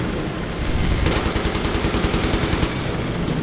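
In the Battlefield 3 video game, dense machine-gun fire rattles in rapid bursts over a loud, roaring background, with the strongest volley in the middle and no talking.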